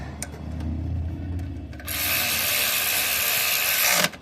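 A ratchet clicks and a hand tool rubs as a spark plug is tightened down on a Nissan Juke engine, with a few close clicks followed by a loud, steady raspy whirring that stops abruptly.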